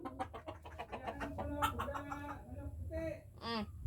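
Chickens cluck and chatter in short bursts close by, with a few sharper squawks near the end.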